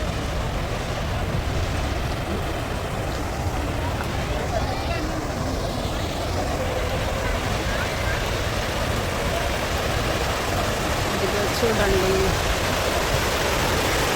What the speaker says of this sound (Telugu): ఇక్కడైతే వాటర్ ఫాల్స్ ఉన్నాయి